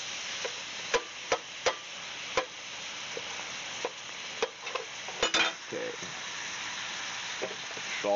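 Ground pork sizzles steadily in a pan while a utensil repeatedly clacks and scrapes against the metal in irregular strokes.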